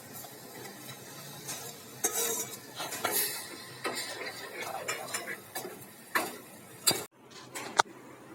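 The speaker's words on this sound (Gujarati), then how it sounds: "તેની અંદર જે આપણે બાફીને તૈયાર કરેલી છે દાળ તે ઉમેરી દઈશું" Boiled dal is added to a gravy and stirred in a pan, giving scraping spoon strokes and clinking utensil knocks in an uneven rhythm, close and moderately loud, with faint sizzling underneath.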